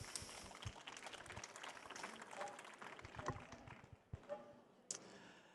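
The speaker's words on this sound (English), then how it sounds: "Big round of applause." A crowd at a garden stage session gives a round of applause, fairly quiet and uneven, with scattered claps thinning toward the end and a few sharper isolated taps.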